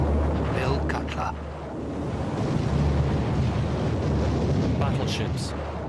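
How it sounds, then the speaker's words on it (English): Nearly 200 ships shell 50 miles of the Normandy coastline on D-Day, 1944: a heavy, continuous roar of distant bombardment with rumbling low booms. Someone narrates over it in places. "Nearly 200 ships bombard 50 miles of the Normandy coastline."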